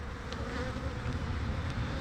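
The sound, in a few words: honey bees buzzing at an open hive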